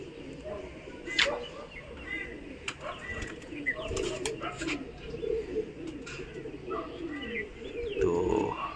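Young, newly released pigeons coo softly amid faint wingbeats and outdoor noise, a flock settling after a morning training flight, steady and low under scattered sounds.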